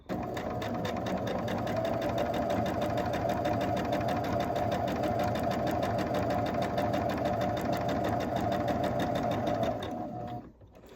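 A sewing machine chain pieces a quilt block, running at a fast, even, continuous whir for about ten seconds before stopping abruptly.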